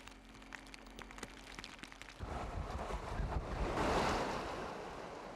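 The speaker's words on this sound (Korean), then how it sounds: "겨울의 바다는 차고 물살도 제법 거칠다" Rough, cold winter sea off a coastal diving spot, with broad wind-driven surf swelling in partway through and rolling loudly before easing slightly, wind buffeting the microphone throughout.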